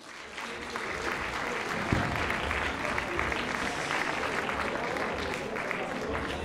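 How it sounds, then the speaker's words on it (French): Sustained crowd applause follows sports demonstrations at a Montreuil champions' trophy ceremony, a thick continuous clapping texture with a faint murmur of voices beneath. "Là aussi, on peut les applaudir, s'il vous plaît."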